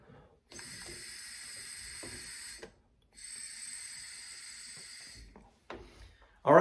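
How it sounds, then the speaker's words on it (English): Two long, breathy airy hisses as air is blown through a tobacco pipe stem, each lasting a couple of seconds with a short pause between, close up, followed by a brief softer puff and a sharp noise at the end. "I'm going to put my stem back on. I'm going to blow through it."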